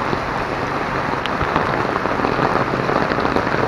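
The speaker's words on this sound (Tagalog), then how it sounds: "Sobrang lakas ng ulan. May bagyo ngayon eh." Heavy typhoon rain in Baler, Aurora, pours down in a dense, steady roar of drops pounding nearby surfaces, loud and continuous with no voices.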